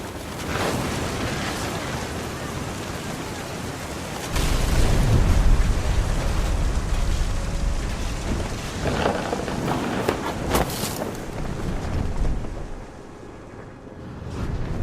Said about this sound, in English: Thunder sounded much too close and full of angry power